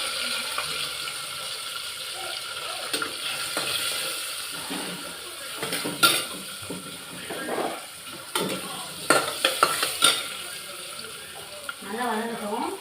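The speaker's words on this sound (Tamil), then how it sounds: "இதெல்லாம் வதங்க விடணும். நல்லா வதக்கிக்கணும்." Vegetables with rock salt and turmeric sautéing in a pan, soft sizzling with intermittent scraping and clinking of a stirring spoon, close and moderate, as someone speaks over it at times.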